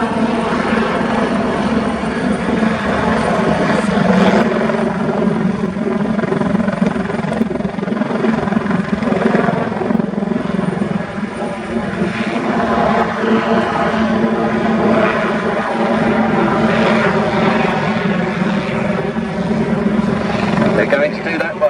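Military display jets manoeuvre at the RAF Cosford airshow, a steady loud engine roar with swelling and fading passes, heard under continuous commentary over a public address.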